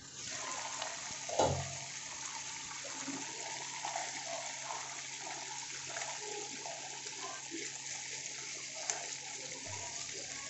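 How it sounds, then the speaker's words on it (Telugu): Fish pieces fry in a pan with a faint, steady hiss and soft crackle that carries on evenly throughout. A few light knocks break in near the start. "వీటిని లైట్ గోల్డెన్ కలర్ వచ్చే వరకు వేయించుకోవాలండి"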